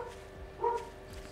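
Dogs barking in the survival video game 7 Days to Die, one brief mid-distance bark burst standing out over a low ambient game hum, with faint further yelps around it.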